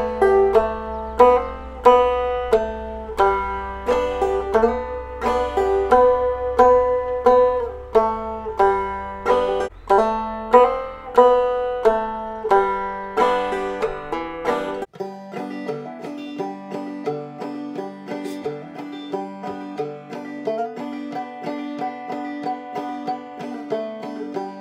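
Banjo picking a folk tune, Go Tell Aunt Rhody, with a break: bright plucked notes in a steady rhythm, fuller with a low drone for the first half, then lighter and sparser picking continuing alone.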